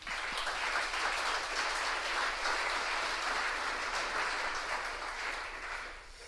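A conference audience applauds contributors in a dense, continuous round of clapping that holds steady and loud, easing slightly toward the end.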